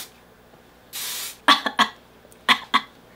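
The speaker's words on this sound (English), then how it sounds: "I always cough when I spray stuff" A hairspray can hisses in one steady burst, followed by several sharp close coughs in two clusters, with no talking.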